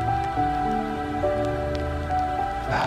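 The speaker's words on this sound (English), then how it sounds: "It's starting to rain." Rain beginning to fall at a salt lake fishing spot outdoors, a soft steady patter of drops on surfaces with a few louder individual hits, continuous and fairly close, no talking.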